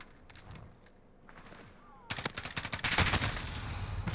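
Rapid automatic gunfire in Modern Warfare multiplayer, a dense burst of close shots starting midway and continuing to the end, loud over faint background game sounds.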